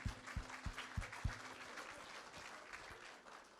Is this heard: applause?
yes